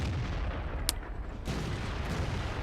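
Tank gunfire in the World of Tanks video game: heavy booming cannon shots and blasts over a dense, roaring battle din, with a sharp crack near the start and another big hit midway.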